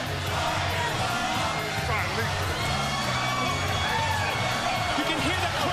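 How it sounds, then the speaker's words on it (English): A wrestling crowd at the Impact Zone arena roars and chants steadily, a dense continuous wash of many voices cheering and shouting, loud and unbroken throughout. "You can hear the crowd here at the Impact Zone."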